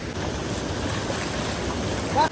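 River water rushing steadily in a mountain stream in Uttarakhand, a constant broad close wash with a faint voice near the end.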